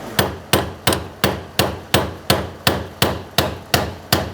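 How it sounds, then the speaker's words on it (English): Sharp metallic taps of a hammer striking a pry bar to turn the plastic fuel pump locking ring on a 2003-2008 Toyota Corolla, eleven evenly spaced close blows about every 0.4 seconds, each with a short ringing decay. "I'm going to use a pry bar and a hammer and just tap this ring counterclockwise to break it free"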